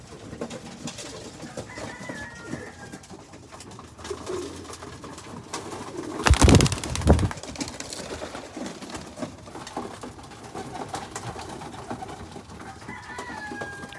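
Racing pigeons, young birds in training around a loft, give soft intermittent coos and calls, fairly faint against a quiet outdoor background, with one brief louder rustling burst midway.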